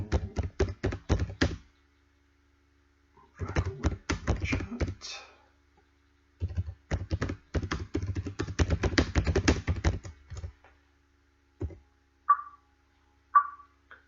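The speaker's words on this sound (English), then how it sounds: "I can start to type a message." Fingers tap out a message on a computer keyboard in several quick, close runs of keystrokes separated by pauses, ending with a couple of soft chimes.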